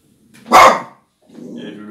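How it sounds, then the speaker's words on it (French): A single sharp dog bark rings out close and loud, followed after a pause by a lower rumbling growl or voice-like sound. "Il y a le loup qui aboie."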